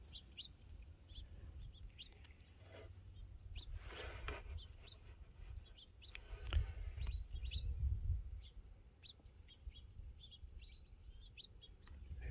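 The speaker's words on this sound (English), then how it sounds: "Little sparrows back there." Sparrows chirping near a bird feeder: faint, scattered high tweets and short calls at a distance, over a low outdoor rumble, with no voices.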